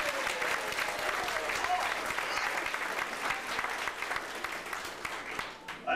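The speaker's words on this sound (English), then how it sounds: "Let's also give another big round of applause for all the entire kitchen staff" A banquet audience gives a sustained round of applause for the kitchen staff, dense clapping from a crowd filling the room, steady and moderately loud throughout.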